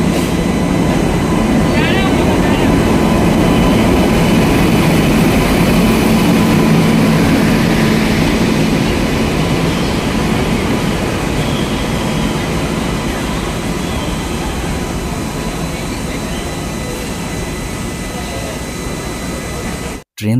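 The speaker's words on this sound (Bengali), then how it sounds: "ট্রেন দাঁড়াতেই আমরা উঠে পড়লাম আমাদের নির্দিষ্ট S4 কামরাতে।" Uttarbanga Express train pulling into a railway platform, a loud continuous rumble and clatter of wheels and carriages lasting the whole stretch and easing slightly toward the end, with a faint voice under the noise.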